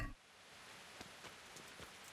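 Rain falling at night in the video game Kingdom Come: Deliverance, a faint, steady hiss with a few soft drop-like taps scattered through it.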